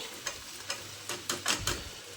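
Quiet crackling sizzle of okra being tempered in hot oil in a pan, with several short bursts of spattering at irregular moments and a faint low hum underneath.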